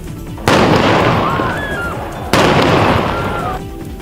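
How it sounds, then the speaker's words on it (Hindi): Two loud firecracker bangs burst a couple of seconds apart at an opposition protest, each followed by a fading rumble and faint whistling crackle. "खूब शोरगुल हुआ और पटाखे भी फोड़े गए।"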